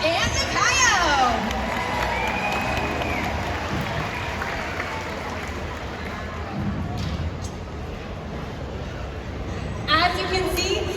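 An audience at a killer whale show cheers and claps, a steady roar of crowd noise with scattered shouts and whistles, loudest at the start and again near the end.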